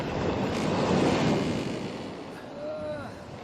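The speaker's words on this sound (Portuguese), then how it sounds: "De repente, uma violenta tempestade abateu-se sobre o mar, de forma que as ondas inundavam o barco." Storm at sea with surging waves and rushing wind crashing against a boat, a loud roaring wash that swells and then eases, with a voice narrating over it.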